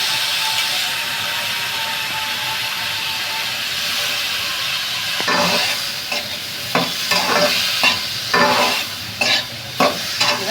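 Cauliflower and green peas with turmeric hiss steadily in a hot pan, then a spoon scrapes and tosses them in loud, irregular strokes over the continuous sizzle.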